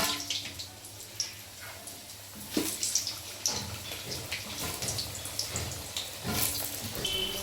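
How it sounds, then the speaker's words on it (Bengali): Potatoes frying in hot oil in a pan on a gas stove, a steady crackling sizzle close by with a few louder bursts and spatters, no talking. "এবার আমরা আলুগুলো একটু লাল লাল করে ভেজে নেব।"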